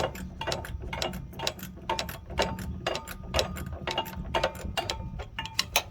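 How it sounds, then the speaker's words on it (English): A ratchet fitted with a half-inch socket backs out the last bolt on a mini split compressor, giving quick bursts of sharp metallic clicks in a steady, repeating rhythm, close and clear. "Using the ratchet, the socket, you can get this last bolt out."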